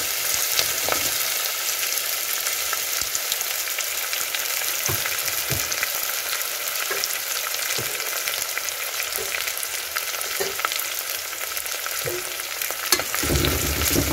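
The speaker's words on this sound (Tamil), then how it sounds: "ஆனியன் நல்லா வதங்கட்டும்." Two large sliced onions frying in a pan, a steady sizzle running throughout with occasional sharp crackles and stirring knocks.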